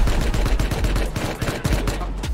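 Rapid gunfire in the survival game Rust, with a dense burst of loud, close shots in quick succession that lasts throughout.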